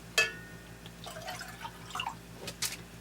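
Rehoboth well water pours in a thin stream, giving a soft, close, uneven trickle with a few brighter splashy drips and no talking.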